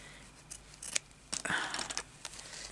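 Scissors snip fabric from a crazy patchwork embroidery piece, several short crisp cuts and rustles close up in an otherwise quiet room.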